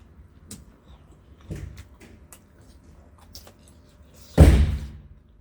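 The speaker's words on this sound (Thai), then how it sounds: "คนจีนเพิ่นปิดประตูดัง ตึมตึม" A door slams shut with one loud, heavy thud near the end, after a few quieter knocks and clatters in a calm room.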